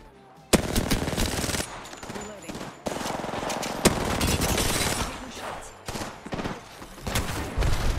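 Rapid bursts of automatic gunfire from teammates in an online first-person shooter match, loud and close, with sharp sustained volleys and brief pauses throughout.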